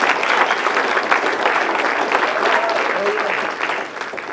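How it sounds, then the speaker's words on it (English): A town hall crowd at a UCP political event in Alberta applauds an MLA, a thick steady wash of clapping that holds evenly for several seconds before easing off, with voices faintly beneath. "Let's give Eric a big round of applause."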